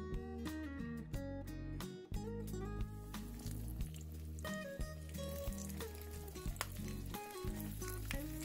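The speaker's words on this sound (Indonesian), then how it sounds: "Kemudian kita goreng adonannya." Bread dough sizzles as it fries in hot oil, a continuous crackling hiss running beneath louder background music with a steady beat.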